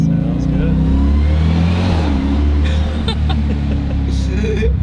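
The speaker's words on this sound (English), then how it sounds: "I'm in manual mode now, so I can just kind of hold that RPM." An 805-horsepower Jeep Trackhawk engine revs and holds steady RPM in manual mode, a loud deep droning roar that rises slightly, with a voice speaking over it.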